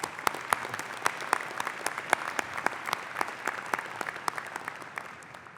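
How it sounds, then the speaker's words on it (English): Clapping from the audience at a 2016 Drexel University doctoral hooding ceremony as award winners are honored: a moderate, steady patter of many hands with distinct sharp claps, tapering slightly at the end. "let's give them a round of applause."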